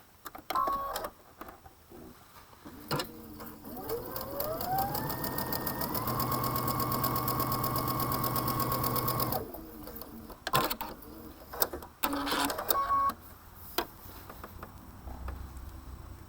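A sewing machine runs a steady row of regular straight stitches, its motor ramping up, then humming continuously for several seconds before stopping, with a few clicks and handling noises around it.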